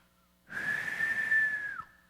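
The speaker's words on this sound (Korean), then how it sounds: "제가 휘파람을 잘 못 불어서" A single sustained whistle, slightly wavering, lasts just over a second against near silence, then stops abruptly.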